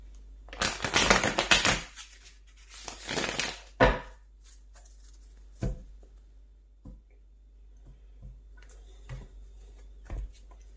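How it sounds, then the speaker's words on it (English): Tarot cards riffled and shuffled in two quick bursts, followed by scattered light taps and clicks of cards being handled; no voices. "Give that one more shuffle."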